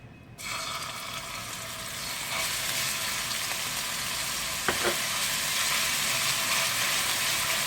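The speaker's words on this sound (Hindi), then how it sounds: "ऑयल समझे हमने जस्ट अदरक लहसुन को फ्राई करने के लिए उसमें यूज़ किया है।" Ginger garlic paste sizzles steadily in about a tablespoon of oil, a loud continuous frying hiss that starts abruptly and holds even throughout, with a faint clink partway through.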